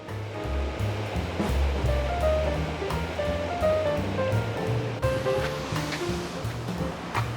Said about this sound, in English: It's great when the water is flowing down the Farmer's Bridge because there's some very interesting bywashes.